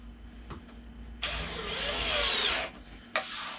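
A power drill drives screws into a wooden bonsai backdrop, one long whirring run of about a second and a half, then a short second burst, loud and close with no talking.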